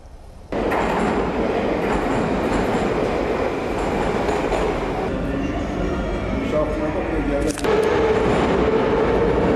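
A train rumbles and rattles nearby with wheel clatter and a brief squeal, while a voice talks over it.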